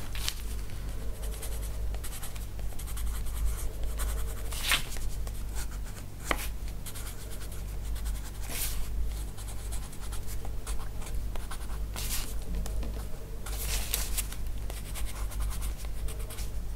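A white colored pencil shades across paper in a colouring book, with continuous soft scratchy strokes and short flicks, close and quiet, no talking.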